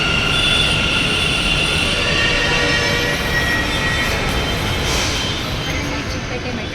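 A Bengaluru metro train runs toward Chickpet, with steady loud rumble, rattling carriages and squealing wheels filling the cabin throughout.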